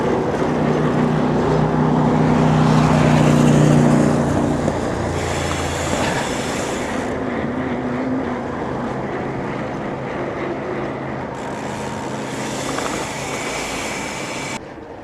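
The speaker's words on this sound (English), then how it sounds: "It's quite a strong headwind at the moment." Strong headwind roaring steadily past a mountain biker riding around Wellington, a loud continuous rush with broadband gusty swells and no talk.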